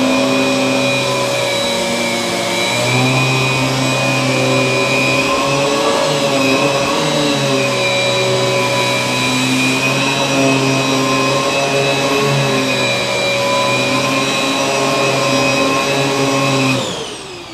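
A Riccar R30D upright vacuum cleaner runs steadily over carpet during a deep-clean pass, a loud, continuous motor whine with a slight wavering in pitch before it cuts off near the end.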